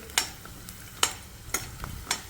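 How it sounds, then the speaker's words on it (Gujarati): Garlic cloves frying in oil for a spicy Gujarati curry, heard as a low background hiss broken by four sharp stirring scrapes spaced about half a second apart, close and fairly quiet, with no talking. "ગુલાબી રંગનું થાય ત્યાં સુધી તળી લઈશું બરાબર"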